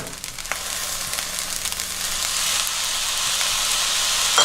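Rice being stir-fried with soy sauce in a pan for Vietnamese fried rice, a loud broad sizzle that swells and holds steady, with occasional scraping of a utensil, close and without talk.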